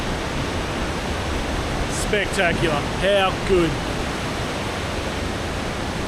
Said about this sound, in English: You might be able to hear that rushing water behind me.